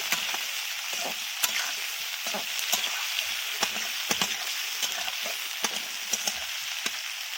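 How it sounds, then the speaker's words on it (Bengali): Green chillies sizzle and fry in a pan in a home kitchen, a steady crackling hiss broken by irregular spoon scrapes and taps as they are stirred, close up with no talking. "পাঁচটা কাঁচা লঙ্কা ছিল সেটাও আমি দিয়ে দিলাম এইবার ভালো করে নাড়াচাড়া করে দিচ্ছি কষিয়ে নিচ্ছি ভালোভাবে"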